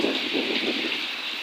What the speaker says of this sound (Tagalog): Ayan siya, umuulan talaga siya mga kabilas.